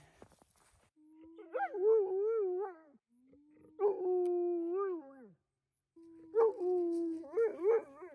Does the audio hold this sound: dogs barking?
yes